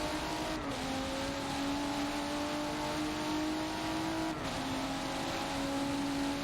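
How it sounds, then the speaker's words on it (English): A white Transformer race car rounds a turn at Brands Hatch, its engine note droning steadily and shifting pitch through the corner, with a brief dip mid-way; no voices over it. "great shot here of the white Transformer car coming around the turn here"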